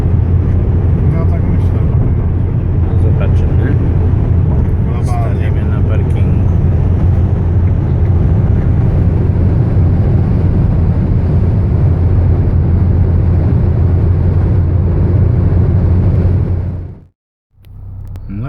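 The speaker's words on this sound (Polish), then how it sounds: "Toyota Avensis, silnik diesel, dwulitrowy silnik BMW" A steady, low engine drone with road rumble from inside a moving Toyota Avensis Combi with a 2.0 D-4D diesel engine and six-speed manual, continuous for most of the stretch before cutting out briefly near the end.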